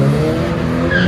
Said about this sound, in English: there might be quite a lot of noise in the background because we're right next to the track here